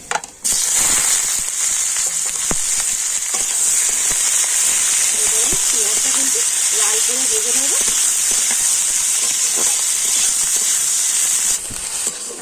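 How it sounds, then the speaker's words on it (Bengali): Mace, chopped onion and green chili sizzle in hot oil, a loud, steady hissing fry that runs almost unbroken for the whole stretch, with occasional sharp clicks and spoon scrapes mixed in. "জৈত্রী তো দিয়ে দিচ্ছি তেলের উপরে আর এখানে আমি নিয়েছি পেঁয়াজ আর কাঁচা লঙ্কা দিয়ে দিচ্ছি"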